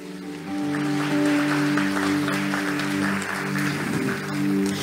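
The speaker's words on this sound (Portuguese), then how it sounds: "Você pode aplaudir ao Senhor?" A congregation in a church service breaks into sustained applause, a dense, even wash of clapping that carries over a held musical drone.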